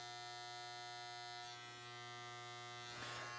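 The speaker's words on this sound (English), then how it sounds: "Just press very gently with the clipper where it's supposed to be and leave it alone." Electric hair clipper buzzing steadily and close while trimming hair around the ear on a high fade, a constant harmonic hum with slight shifts as it presses against the head.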